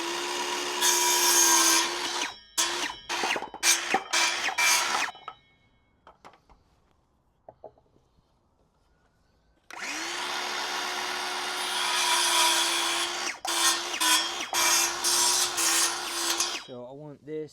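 A power saw cuts wood for a garden concrete project in two long, loud, close passes: the motor whines steadily while the blade bites, separated by a quiet pause with faint handling noises.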